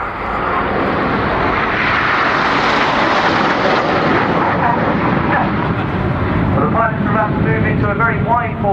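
Red Arrows jets fly in wide formation at the 2014 Royal International Air Tattoo, making a loud, continuous engine roar that swells and fades slightly while a commentator talks over it.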